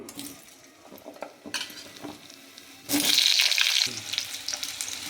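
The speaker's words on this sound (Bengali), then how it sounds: "আমি এবার এখানে সবজিগুলো একটু ভেজে নেব" Potato and carrot pieces hit hot mustard oil partway through, setting off a loud, close, steady sizzle that follows quieter clinks and stirring noises in the pan.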